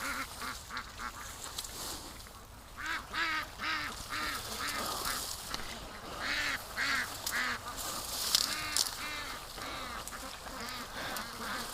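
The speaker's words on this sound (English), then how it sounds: "Oh, freaking the ducks right out here." Startled ducks at a creek quack repeatedly in bursts of rhythmic calls, moderately close and fairly clear, overlapping one another with no talking.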